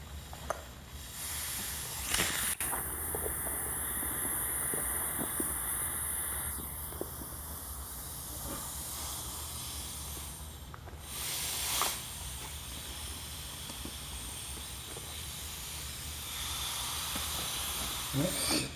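Water from a hose pouring through an open valve into a wildfire water tank, a steady close rushing hiss that holds for the whole stretch with small shifts in intensity.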